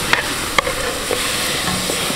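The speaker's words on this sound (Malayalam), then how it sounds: "ഇനി നമുക്ക് ഈ ചേരുവകളെല്ലാം കൂടെ അങ്ങോട്ട് മിക്സ് ചെയ്തെടുക്കാം" Beef head pieces being stirred into a curry masala of ginger and green chilli in a pan, with a few sharp scraping clicks of the spoon over a steady low sizzle.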